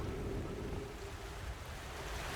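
Steady rushing waterfall in the video game Outer Wilds, a continuous broadband roar of falling water with no breaks, fairly loud and alone.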